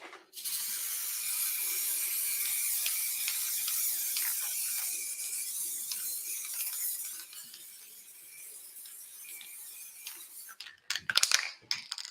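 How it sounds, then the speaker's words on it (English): Layering spray misted onto model railway scenery over static grass makes a continuous soft hiss that runs for most of the stretch, ending with some handling clatter. "on with the layering spray."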